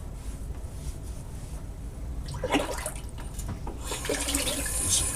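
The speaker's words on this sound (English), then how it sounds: "Warm water." Warm water runs from a bathroom tap as a steady hiss and splash, growing louder and more turbulent as the flow increases, close and alone.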